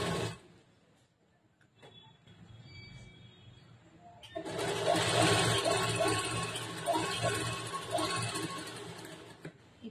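Domestic sewing machine stitching a folded, joined fabric strip for blouse piping, a steady loud whirring run that starts abruptly midway after quiet handling.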